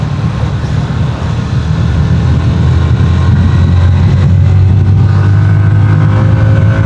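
A GPX Demon Da Corsa 2 motorcycle engine revs high while lacking initial power, a loud, continuous close-up drone whose pitch climbs and holds steady over several seconds with no speech.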